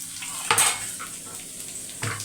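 Curry leaves and garlic cloves fry in plenty of oil in a pan, a steady close sizzle broken by two louder scraping clinks of a spoon stirring against the metal.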